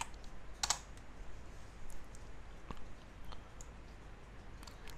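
Password typed on a computer keyboard, a few soft, scattered key clicks close to the microphone and very quiet, with one slightly sharper tap near the start and long gaps between presses.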